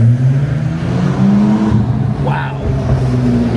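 Honda NSX twin-turbo V6 hybrid engine droning and revving from inside the cabin, a steady loud rumble with a brief rising whine, while people talk over it.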